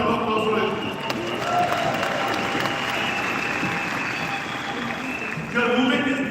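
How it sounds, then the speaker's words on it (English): Audience applause at a live event rolls on steadily for several seconds as a dense wash of clapping, with a brief surge near the end. "Give yourself a round of applause for it."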